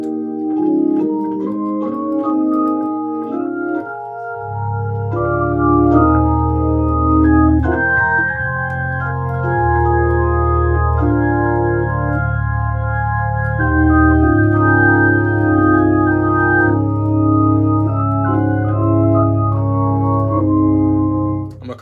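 Drawbar organ playing sustained chords with a drawbar setting used for talk music, starting thin and then filling out with a full low end, a steady chord progression heard alone and close.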